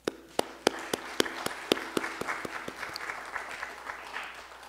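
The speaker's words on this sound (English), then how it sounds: "Church, let us clap our hands for our pastor." Church congregation clapping for the pastor after a sermon, sharp individual claps at first settling into steady, moderately loud applause from a small crowd.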